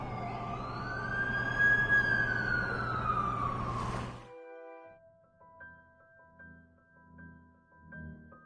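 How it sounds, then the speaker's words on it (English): An ambulance siren in The Amazing Spider-Man 2 video game on PS5 wails loudly for about four seconds, then cuts off with a thud, followed by quieter beeping tones. "That's the ambulance I called."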